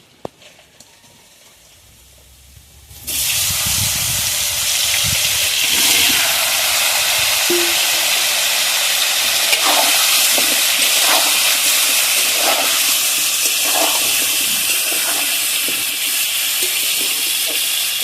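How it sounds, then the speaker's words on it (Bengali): Raw green mango pieces go into hot oil for a sweet-sour-spicy pickle: after about three quiet seconds, a loud, steady hiss bursts in and holds, with a few faint clinks from stirring. "তেলটা গরম হয়ে গেছে তেলের মধ্যে দিয়ে দেবো আম"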